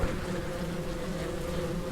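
Bees buzz in a dense, steady drone around beehives in the Ranch Simulator video game, a continuous close swarm hum with no voices over it.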